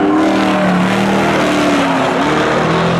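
Drag race cars roar off the start line at a spectator drag event, a loud, sustained engine howl with rising pitch filling the whole moment, close and continuous.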